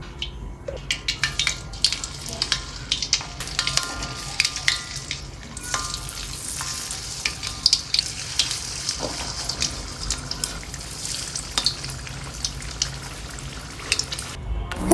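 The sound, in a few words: corn and flour fritter batter deep-frying in hot oil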